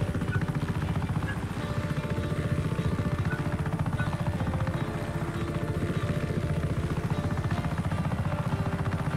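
Steady, loud helicopter rotor drone from a Just Cause video game, a continuous low throbbing buzz with a slow rising and falling sweep, running unbroken throughout.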